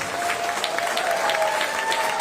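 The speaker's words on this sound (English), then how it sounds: "So you all give all of those distinguished honorees a big, big Texas round of applause." An audience at a criminal justice awards ceremony applauds its honorees, a steady, dense burst of clapping that fills the room for the whole stretch without letting up.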